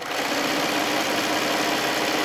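A sewing machine stitching a quilt strip made from layer cake fabric squares, running in a fast, even whirring buzz, close and steady throughout the short stretch with no voices.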